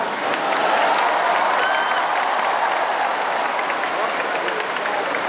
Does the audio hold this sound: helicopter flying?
no